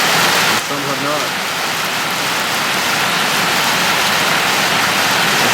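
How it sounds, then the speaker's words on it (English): Heavy rain pours down steadily in a brief rainstorm, a dense, even hiss of drops drumming on surfaces that fills the whole stretch; a faint duckling peep or voice shows up near the start. "It's a good rainstorm."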